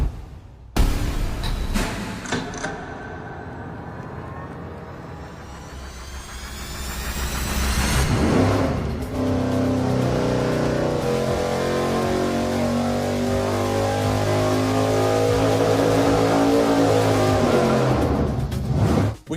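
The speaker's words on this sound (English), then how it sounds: "pretty soon you're gonna see our LS run on its first shot with the original hose" An LS V8 on an engine dyno runs hard on a nitrous shot through an 8-inch hose, a loud, sustained roar that builds after a brief rev and holds steady near the mic until cutting off at the end.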